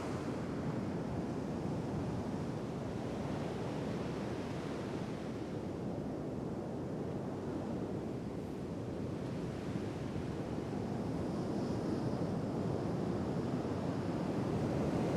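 Ocean waves breaking on a real seashore, a steady broadband wash of surf with wind buffeting the microphone, continuous and fairly loud throughout with no voices.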